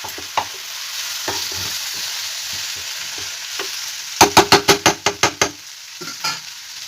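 Jackfruit curry stir-fried in a pan, with a steady sizzle under repeated scraping and stirring strokes, including a quick run of sharp spoon clacks against the pan, close and clear with no talking.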